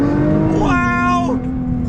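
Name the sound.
Nissan GTR accelerating hard from a dead stop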